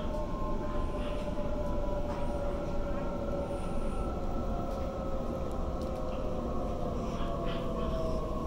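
A Sydney Waratah A set electric train running, with a steady loud rumble of wheels on track, a constant motor whine and faint squeals throughout, heard from on board.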